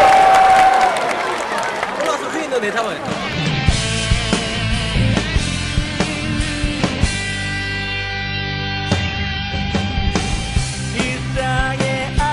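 Stadium crowd at a Gyeongnam FC football match answering with cheering and applause: a public-address voice first, then a swelling roar of cheers and scattered clapping that carries on, loud and reverberant.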